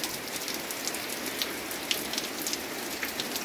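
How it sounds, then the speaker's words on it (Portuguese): Heavy, steady rain pours down outdoors, a dense continuous hiss with scattered sharper drops landing on surfaces close by. "É chuva por aqui, viu, mãe?"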